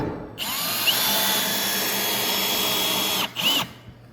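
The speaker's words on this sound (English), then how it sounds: "And I'm gonna put 4 screws on the back side." A power drill drives screws into wooden bench boards during leg assembly, one long steady whine of about three seconds followed by a short second burst, loud and close with no talking.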